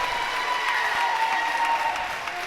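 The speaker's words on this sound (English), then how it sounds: "First free throw is good, as you can tell by the roar from the crowd." A high school basketball crowd at a Herculaneum Blackcats versus Grandview Eagles boys game roars and claps after a made free throw, a steady wash of cheering and applause heard from a distance.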